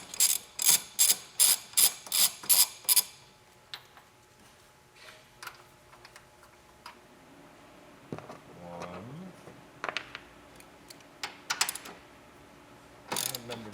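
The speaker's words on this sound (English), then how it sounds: "And now we're going to loosen the two motor mount bolts here." Ratchet with a 15mm socket loosening motor mount bolts on a Chevrolet Sonic, a quick run of loud clicking strokes at first, then sparse faint clicks and metal handling.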